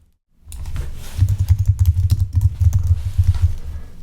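Fast, steady typing on a computer keyboard, a dense run of close, clicking keystrokes that begins after a brief silence and carries on without a break.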